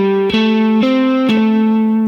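Electric guitar playing a short pentatonic lick, a few clean sustained notes stepping down with a hammer-on and a double stop, loud and close with no talking.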